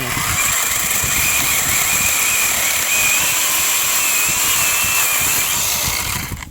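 A LEADER cordless reciprocating saw cuts loudly and continuously up close, a high buzzing whine with a steady motor pitch that runs the whole time and then cuts off at the end.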